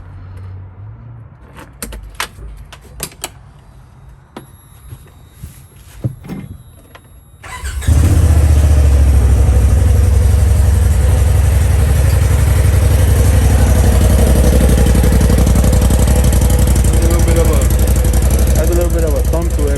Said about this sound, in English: I'm gonna be turning it on now so you guys can hear the stock exhaust system